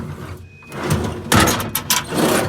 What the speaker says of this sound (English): this box as well has some sliding drawers